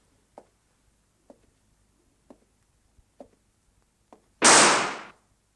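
A single loud pistol shot bursts out near the end of a scene from the 1970 film Crime and Punishment, sharp and close, after several faint, evenly spaced ticks in an otherwise quiet room.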